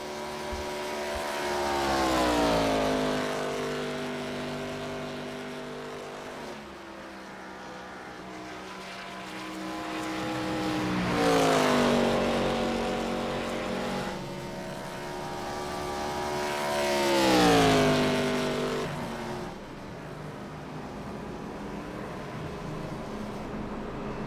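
A pack of stock race cars laps Charlotte Motor Speedway under the pace car, engine roar building to loud passes about every seven seconds and fading away between them.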